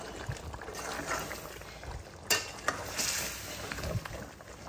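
Marinated chicken stirred in a pan with hot water, soft bubbling and simmering with occasional louder clanks and scrapes of a utensil, fairly quiet overall.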